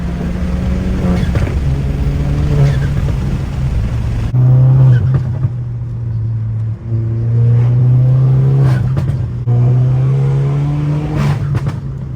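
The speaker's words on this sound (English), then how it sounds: "kept my Catless downpipe and ran it to the stock exhaust with no mufflers" A Volkswagen GTI engine rumbles with a loud, raspy catless downpipe exhaust without mufflers, revving up and settling in several pulls, close and unmuffled, with no one speaking.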